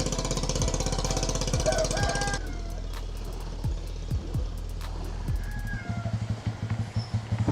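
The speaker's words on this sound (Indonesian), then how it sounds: "Itu ada kapal yang baru mau jalan." A river boat engine chugs and knocks steadily nearby, its rhythm shifting as it revs and pulls away from the bank.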